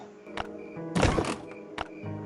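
Crates open in the video game Last Day on Earth: a few hollow thunks framing a short, loud rattling burst in the middle, close and with no talk.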